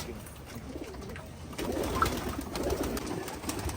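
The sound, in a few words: pigeons cooing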